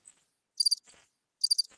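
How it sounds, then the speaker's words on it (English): Crickets chirp in two quick bursts of rapid high pulses with short quiet gaps between, fairly soft and with no voices over them. "Those are crickets."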